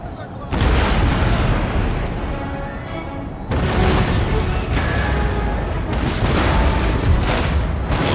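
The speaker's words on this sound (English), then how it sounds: "we're going to switch our artillery to cannon fire" Artillery cannons fire in the Total War Empire strategy game, heavy booms and rumbling volleys rolling continuously in dense, loud bursts with overlapping battle noise and a voice speaking over it.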